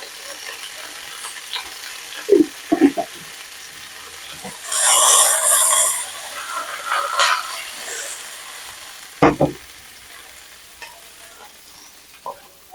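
Garlic sizzles in a pan on the stove in a brief hiss that swells and fades, surrounded by scattered clinks and stirring scrapes nearby.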